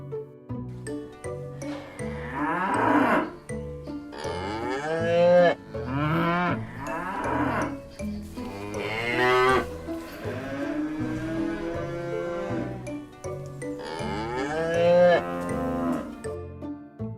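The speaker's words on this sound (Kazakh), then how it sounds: "Бұл сиыр. Сиыр му, му дейді." A cow moos repeatedly, with long, loud, wavering calls coming one after another and short pauses between them.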